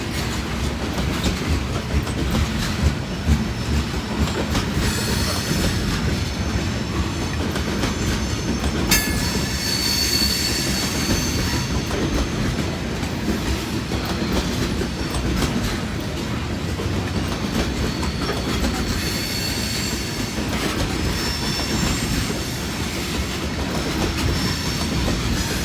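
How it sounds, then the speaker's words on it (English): A freight train of trash wagons rolls steadily past, rhythmic clickety-clack of wheels over rail joints with occasional wheel squeals, close and continuous throughout with no voices. "A bunch of trash wagons."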